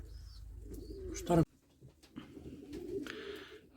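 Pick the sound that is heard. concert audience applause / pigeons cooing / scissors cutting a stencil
pigeons cooing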